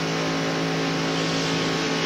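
NASCAR stock cars racing at Talladega in the 1993 Winston 500, a loud sustained roar of engines at high revs, steady and dense with a droning pitch throughout.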